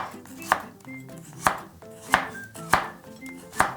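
Knife julienning cabbage and carrots for a salad, sharp chops landing on a cutting board at a steady, slightly uneven pace, close and clear with no voices.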